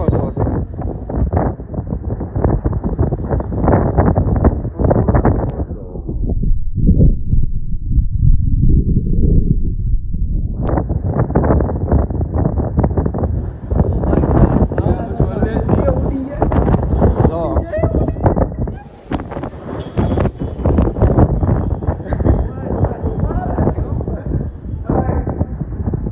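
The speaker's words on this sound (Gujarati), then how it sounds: "વરસાદ ને પવન બધું ભેગું." A storm in Bhavnagar brings strong wind and rain, with loud, continuous roaring gusts buffeting the microphone and a brief lull partway through, as a voice talks over it.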